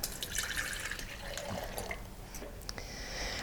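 Barley wine, stout and rum pour into a mixing bowl for a Christmas pudding, a quiet trickling splash with scattered drips running steadily throughout at close range.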